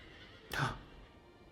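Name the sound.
horse neighing, from a video game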